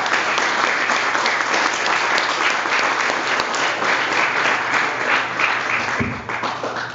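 A room of listeners at a book presentation gives loud, sustained applause welcoming the author, dense and continuous for several seconds before easing slightly at the end.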